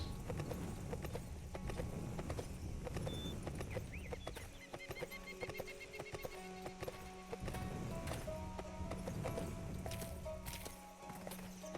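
Horse hooves clip-clop steadily in the Sacred 2 video game, a fairly even rhythm of hoof strikes carrying on throughout over a busy background of game music and ambience.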